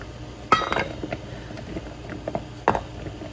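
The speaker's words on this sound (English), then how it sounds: "I just do this pot, and I have this little bowl that fits on top, and I put my chocolate that I want to melt in it." A metal pot and a small bowl that nests on top clink together as a double boiler is set up for melting chocolate, giving two sharp, close clinks with quieter handling taps between.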